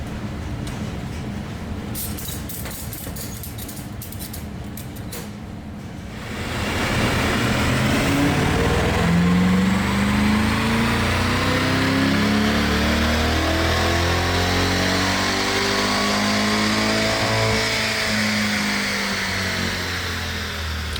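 A Chevrolet C8 Corvette with a Magnuson Stage-1 supercharger package runs on a chassis dyno, its engine idling and then revving up hard into a loud, sustained wide-open-throttle pull with a rising pitch.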